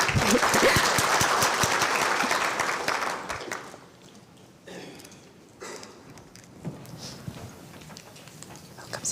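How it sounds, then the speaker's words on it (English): Audience applause at a conference, a burst of many hands clapping loudly that dies away after about four seconds, leaving quiet room noise with faint shuffling. "Let's accord him a proper clap."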